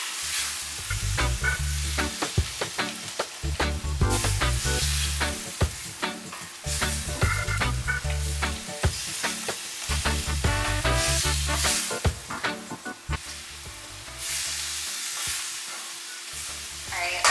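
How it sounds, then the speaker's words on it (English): Chicken pieces for Jamaican brown stew chicken sauteing in a pot while a utensil scrapes and stirs the bottom, giving repeated scraping strokes over a steady close sizzle with no talking. "Make sure you're scraping everything up from the bottom."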